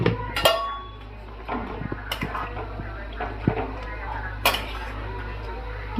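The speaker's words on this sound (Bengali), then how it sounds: "এটা দিয়েই ঢাকা দিই বড় থালা দিয়ে" A large plate set over a pot in a home kitchen, giving a few sharp ceramic and metal clinks and clatters at close range amid low room noise and faint background voices.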